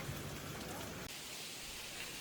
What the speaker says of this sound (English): the rain was only getting heavier